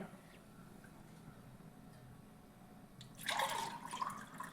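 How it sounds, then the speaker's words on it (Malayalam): Hibiscus lemonade trickles and splashes into a glass through a strainer in the final second or so, after a quiet stretch of faint background noise. "നമുക്കിനി ഗ്ലാസ്സിലേക്ക് ഊറ്റാവേ"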